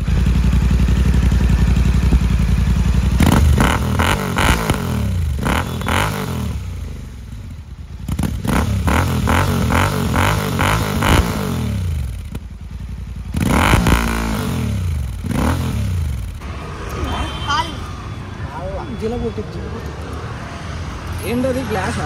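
A Royal Enfield Continental GT 650 fitted with an AEW 103 exhaust, close and loud, idling with a low throb then revved in repeated rising bursts that fall back, with occasional clatter and talk in between.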